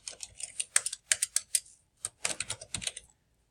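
Keys clack on a computer keyboard as details are entered into property management software, a quiet close run of quick keystrokes in two bursts split by a brief pause, with no voices.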